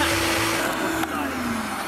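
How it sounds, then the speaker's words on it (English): A vacuum cleaner hums loudly and steadily as it sucks ants out of nest holes in the ground, its motor tone shifting slightly partway through. "This vacuum cleaner is gonna be absolutely filled with ants."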